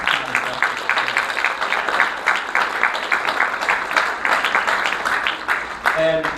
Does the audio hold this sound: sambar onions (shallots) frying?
no